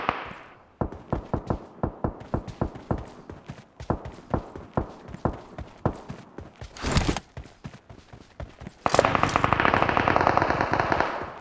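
Gunfire in the battle royale game BGMI/PUBG: a string of rapid, evenly spaced shots, then a brief burst and a sustained loud blast of automatic fire at the end, close and sharp.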